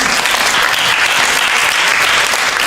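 Dense, steady applause from an audience for a speaker at a religious talk, continuous clapping throughout, loud and close.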